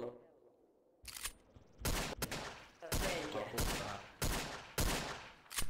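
Rapid bursts of gunfire in the video game Garry's Mod, a roleplay session, with about six loud, sharp volleys spaced roughly a second apart after a quiet start, each cracking sharply in the foreground.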